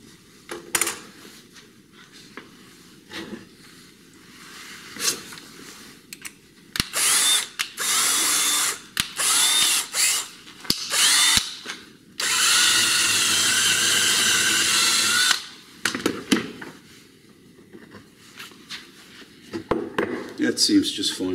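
A drill bores wood with a brad point bit, giving bursts of whirring and grinding, including one long sustained run, loud and close, with someone talking between the bursts.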